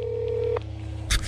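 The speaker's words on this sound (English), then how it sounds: "Let's call Dodge Camper Daryl." A phone dials with a sustained tone that cuts off, followed by a short sharp beep burst, close and clear with no talking.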